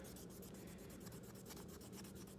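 Steady back-and-forth rubbing of dark black ink onto a cork fishing rod handle, a continuous dry scraping texture with a quick repeating stroke rhythm, close and moderately quiet with no talking.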